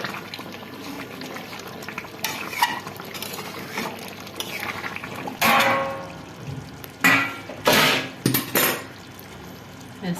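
Chicken kosha curry being stirred in a pan as it cooks down, with a bubbling simmer underneath and several loud bursts of a spoon scraping and clattering through the thick gravy.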